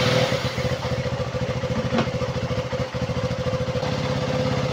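A KTM Duke 200 motorcycle idles steadily after a leaking fuel pump hose was replaced, its single-cylinder engine chugging in an even, close, moderately loud rhythm with no talking.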